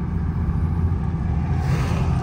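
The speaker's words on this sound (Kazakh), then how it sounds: "чоң машиналар жүрөт." Steady low rumble of vehicles passing along a road, a continuous engine drone with no voices.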